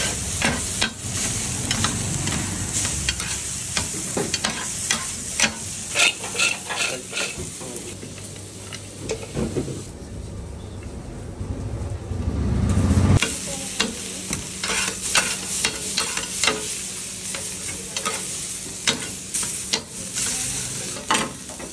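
Chicken, French fries, tomato and onion tossed and fried together in a pan at a doner kebab shop in Kathmandu, with steady sizzling and repeated scraping stirs, a brief louder hiss partway through, and no talk.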